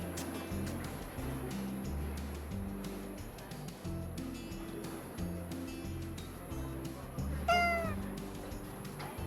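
A cat meows on a Manila street at night, one rising, quavering call near the end over a steady rumble of traffic and low engine drone.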